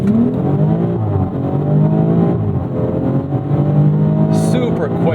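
A 2019 BMW X3 M40i accelerates hard in automatic mode, its engine note climbing loud and close with quick gear shifts that briefly drop the pitch before it rises again, heard from inside the car.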